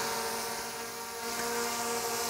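A DJI Mini 4 Pro drone hovers nearby, its propellers giving a steady high-pitched buzzing whine with a fairly constant tone throughout, fairly loud and with no voices over it.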